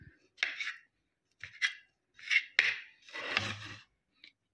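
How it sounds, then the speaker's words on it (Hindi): A knife trims the brown crusts off bread slices on a board, a few separate short cutting and scraping strokes, close and quiet with pauses between. "ब्रेड्स के मैंने स्लाइस ले लिए, उनकी साइडें जो ब्राउन वाली हैं वो मैं रिमूव कर दूंगी।"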